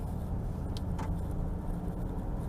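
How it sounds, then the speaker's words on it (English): Cabin of a moving car: a continuous low road rumble and engine hum heard from inside, with a couple of faint, brief rattles or clicks, steady and moderately quiet. "Welcome to driving in the car with me."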